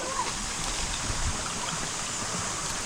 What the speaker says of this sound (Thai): ที่นี่มันเป็นน้ำตกทุกคน